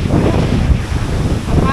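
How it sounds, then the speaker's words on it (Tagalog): Strong wind buffeting the microphone outdoors, a loud low roaring rumble that lasts throughout the short stretch. "Ang hangin."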